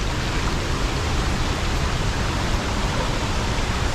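A waterfall in southern Vietnam gives a steady, dense roar of rushing water that stays loud and unbroken throughout, with no voices over it.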